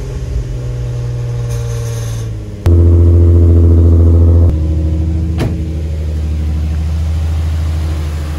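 Nissan G35 on its first start-up, a steady, loud engine idle with a sudden jump in level as it catches, holding a low rumble with clicks and a whining fuel pump, close by.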